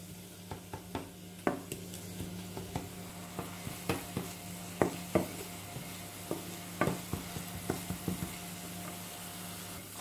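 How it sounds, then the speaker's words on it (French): Chopped garlic and onion sauté quietly in a frying pan, with a soft, steady sizzle broken by a string of sharp utensil taps and scrapes as they are stirred. "je vais faire revenir l'ail et l'oignon hachés pour leur donner une belle couleur translucide"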